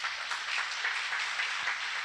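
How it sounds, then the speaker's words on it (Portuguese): A church congregation applauds steadily, a dense wash of clapping at an even level for about two seconds, with no voices standing out. "Aplauda bem forte ao Senhor."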